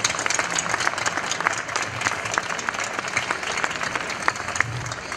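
Dense, continuous applause from a crowd at a local community event, many hands clapping at a steady level with a few voices mixed in.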